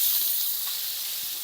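Chopped onion lands in a pan of frying garlic and sets off a brief, even hiss of sizzling oil, close and steady.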